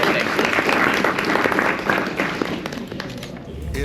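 A convention audience at a horror con panel claps steadily as a dense, fairly loud wash of applause that slowly thins toward the end, with some voices mixed in.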